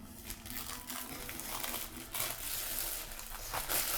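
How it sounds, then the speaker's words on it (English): Paper torn by hand at a table during a craft session, giving steady crinkling and ripping that runs unevenly for about four seconds with a few sharper bursts. "It's not ripping in a straight line."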